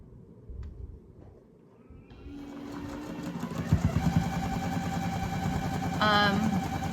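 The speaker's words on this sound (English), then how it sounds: "I sew on a Juki 2000 QI." A Juki 2000 QI sewing machine starts up after a quiet moment and stitches steadily, its motor hum and rapid needle pulses carrying close and moderately loud to the end.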